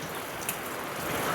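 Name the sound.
rain falling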